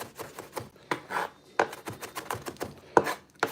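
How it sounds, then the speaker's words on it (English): Garlic being chopped by hand with a kitchen knife on a board, a quick run of close, crisp taps in an uneven rhythm, with no talking. "You just hold the knife like this. You just chop, chop, chop, chop, chop, chop, chop, chop, chop."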